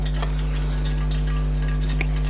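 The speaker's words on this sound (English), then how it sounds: "So that's sizzling like that." Fresh garlic sizzles and crackles steadily in hot oil in a pan, a constant frying hiss with a low hum beneath it.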